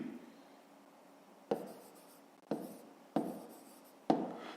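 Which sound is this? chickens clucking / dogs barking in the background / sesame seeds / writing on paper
writing on paper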